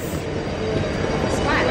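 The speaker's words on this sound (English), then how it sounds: "So, we are literally in the middle of the subway." A subway train runs through a New York City subway station with a loud, steady rumble and clatter, a faint squeal of wheels near the end, and people talking over it.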